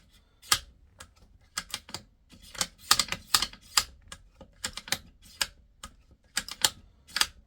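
Bolt of a Stevens 334 rifle worked back and forth after a sticky-bolt fix: a quiet, close series of sharp metallic clicks and snaps in an uneven rhythm, with no talking.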